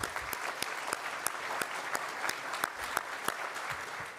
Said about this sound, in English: also deserve a large round of applause